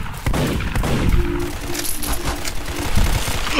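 Rapid bursts of gunfire from the Ambassador gun in a randomizer video game, loud dense volleys of repeated shots cracking over a busy game mix, with a brief tonal beep in between.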